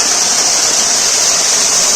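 A small waterfall at Courtallam pours in a steady, dense hiss and rush of falling water, close and loud with no voices over it.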